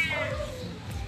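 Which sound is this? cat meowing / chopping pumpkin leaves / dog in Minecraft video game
cat meowing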